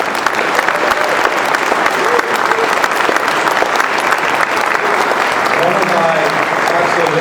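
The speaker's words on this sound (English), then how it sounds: "let's stand up and give them a round of applause" A convention crowd stands and applauds veterans, loud sustained clapping from many hands filling the room without a break, with some cheering mixed in.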